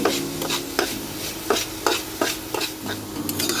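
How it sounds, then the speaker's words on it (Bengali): Red amaranth greens are stirred in a frying pan, with repeated scraping strokes at a steady rhythm over a continuous loud sizzle, close up and without any voices. "শাকটাকে আমি একটু ভালো করে নেড়ে নিচ্ছি।"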